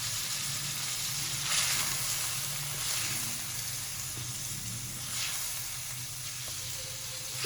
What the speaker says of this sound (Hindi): इसी मसालों के साथ अच्छे से हम चिकन को भून लेंगे